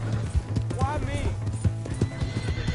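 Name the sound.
horse galloping and neighing in a video game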